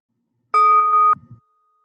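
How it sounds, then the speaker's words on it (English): A single meditation bell struck once for mindfulness practice, a clear near ding with a bright ringing tone lasting about half a second, then cut short by a brief low thump, alone in silence. "So I will give the sound of the bell and then guide you in this practice."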